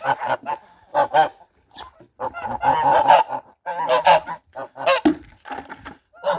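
Farm geese honking in repeated loud nasal bursts close by, several birds calling over one another in irregular clusters with short pauses between.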